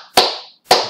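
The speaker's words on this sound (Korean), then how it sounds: "박수 쳐볼까요?" Two sharp, loud hand claps made close to a microphone, spaced about half a second apart, each ringing out briefly before fading, with no talk around them.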